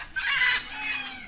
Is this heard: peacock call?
yes